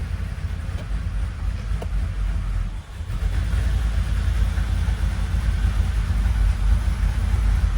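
A freshly installed and tuned 1996 Impala SS engine idles with a steady, low, continuous rumble; it dips briefly near the three-second mark, then carries on evenly with no talking.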